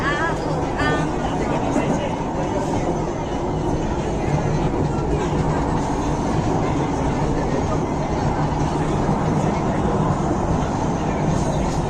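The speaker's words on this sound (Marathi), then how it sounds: "मेट्रोमध्येच आहे" Loud, steady rumble and rattle of a moving metro carriage in Pune that never lets up, with muffled voices faintly underneath.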